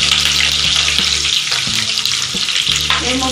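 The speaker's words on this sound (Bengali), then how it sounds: "দিয়ে একটু ভেজে নেবো।" Par-boiled potatoes frying in hot oil, a loud continuous sizzle with occasional stirring scrapes throughout.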